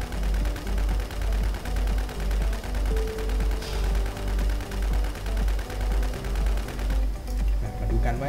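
Rapid automatic gunfire in the online survival shooter WarZ, a steady loud stream of shots repeating in a regular pulsing rhythm for the whole stretch, with a game voice faintly underneath.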